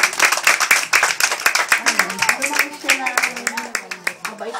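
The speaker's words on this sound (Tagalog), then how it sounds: "Palakpak muna, palakpak!" Guests clapping at a child's fifth birthday party, a run of sharp, fairly close claps mixed with chatter and a voice speaking over them throughout.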